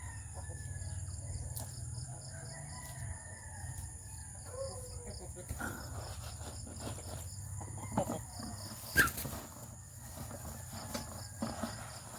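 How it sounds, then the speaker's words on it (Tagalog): Chickens cluck softly around a quiet yard with insects chirring in the background, and a rooster-like call rises briefly near the end. "Papatuka muna po tayo ng mga alaga kong manok."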